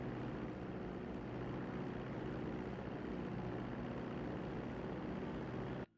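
A steady, unbroken airplane engine drone hums as the aircraft taxis toward the runway in GTA 5, moderately loud and close with a faint propeller-like texture, holding even until it cuts out abruptly at the very end.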